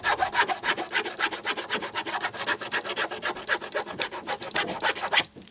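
A hand rasp files wood in steady, rapid back-and-forth strokes, a close, dense scratching rhythm that runs unbroken to the end.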